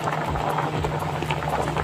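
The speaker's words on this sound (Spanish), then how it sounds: "cocinándose en baño María." Water bubbling at a steady rolling boil in a bain-marie pot while a cheesy bread pudding cooks, a continuous close, dense simmering texture with no talk.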